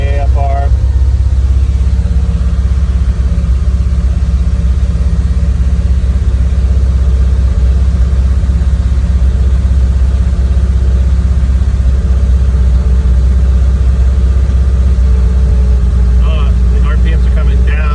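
A car engine idles steadily after a cold start, a constant low rumble that holds loud and close for the whole stretch, with a slight shift in pitch as the revs settle and voices talking faintly over it.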